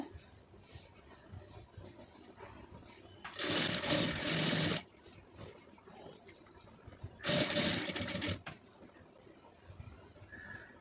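Sewing machine stitching fabric piping in two loud, close bursts of steady whirring, each lasting about a second or more, separated by a quieter pause with faint background noise.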